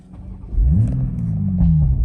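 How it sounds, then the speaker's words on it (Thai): A Toyota Supra A90 engine starts after a service reset: a starter crank, then the engine catches with a rising rev that settles into a loud, steady idle, close by with no speech. "ทีนี้เราก็มาสตาร์ทเครื่องอีกครั้งหนึ่ง"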